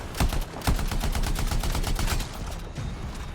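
Rapid automatic gunfire from a weapon in the video game Anthem, a fast even stream of sharp shots with a couple of heavier blasts, loud and close with no talking.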